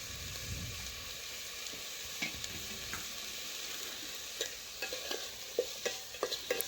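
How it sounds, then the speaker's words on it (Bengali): Vegetables for a vegetable khichdi being stirred and fried in a pan, with a steady low sizzle and scattered scraping clicks of the spoon that grow more frequent toward the end; no one speaks. "এভাবে আমি 2 থেকে 3 মিনিট সবজিগুলো আগে কষে নেব।"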